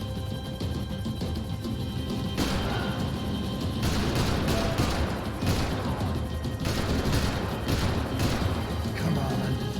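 Gunfire in Max Payne 3, with repeated loud shots and crashing impacts over a dense layer of action noise, several bursts clustered through the middle.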